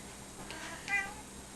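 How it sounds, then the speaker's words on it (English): A house cat gives two soft, drawn-out meows indoors, fairly faint against a quiet background with no talking. "See, Dasher's sitting here, but Danny's meowing"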